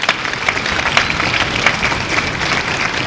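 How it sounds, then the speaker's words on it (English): Audience at a spring school concert applauding board members, a steady dense clapping that stays loud and even throughout, with no talking over it. "let's give them a round of applause"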